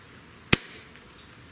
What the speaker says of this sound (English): There's our five shots with the Mike Melick Special PCP